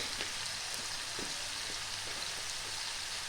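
Spices and green chillies with salt and turmeric sautéing in a pan over medium-low flame for a mustard fish curry, a soft continuous sizzle with faint crackles, no voices.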